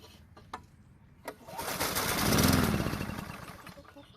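A walk-behind lawn mower that starts but quickly dies is pulled, a couple of short recoil tugs, then the engine catches, swells to a brief rough run and fades back down within seconds.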